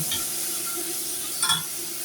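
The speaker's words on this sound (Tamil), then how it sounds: "தக்காளி பழம் நல்லா வதங்கி வந்து வந்துட்டு இருக்குது" Tomatoes sautéing in a pan while cooking a Tamil curry, giving a steady soft sizzle with light stirring scrapes and a brief louder burst near the end.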